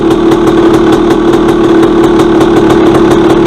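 A used dirt bike's engine idles while still cold, holding a loud, steady, close low rumble with an even, fast pulsing throughout and no voices.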